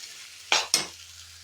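Raw banana pieces frying with ginger in a pan, two quick, sharp stirring scrapes close together over a faint, steady sizzle.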